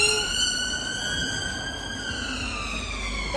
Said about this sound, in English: If it's not the police, it's the ambulance.